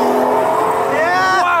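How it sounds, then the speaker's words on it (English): A V12 car with its exhaust valves open drives past, a rising engine note sweeping up as it approaches and nears, heard under steady background noise, with speech-like sound in the mix. "Let's hear what that V12 sounds like. Come on, give us a little drive-by."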